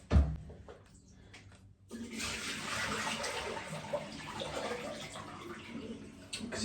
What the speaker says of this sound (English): Now I want to tip it down the basin